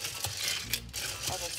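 Quick clinks and light scraping from stirring a spicy Moscow Mule topped with Fever Tree ginger beer in a glass, a few close, short taps over a soft background hum.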